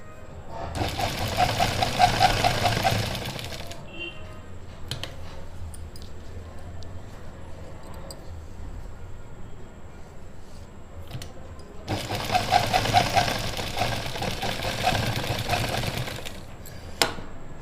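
A sewing machine stitches suit fabric in two loud bursts of rapid running, one at the start and one near the end, with quieter handling noise between.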